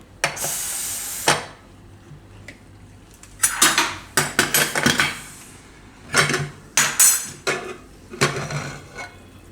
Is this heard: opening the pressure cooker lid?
yes